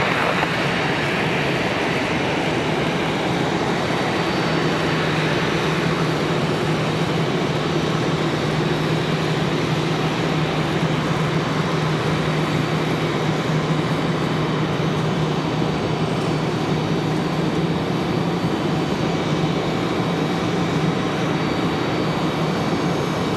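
An Airbus A321 jet taxis toward gate D20 at Raleigh-Durham International Airport, giving a steady, loud engine roar with a low hum that holds evenly throughout, with no talking.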